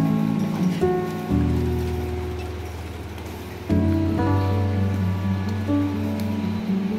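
Heavy rain pours steadily, a dense hiss of drops on surfaces beneath a sustained droning tone that shifts pitch a couple of times.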